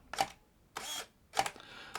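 Three crisp camera shutter clicks, each a short double snap, come at roughly even half-second spacing, close and alone in a quiet room.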